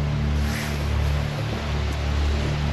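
A river flows near a footpath with ferns by a bridge on a family walk up to Walla Crag, giving a steady, broad rushing wash that stays loud and even, with no voices.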